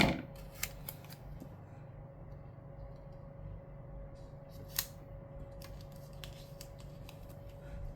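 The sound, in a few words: trimming paper with scissors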